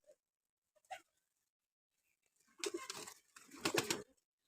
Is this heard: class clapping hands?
no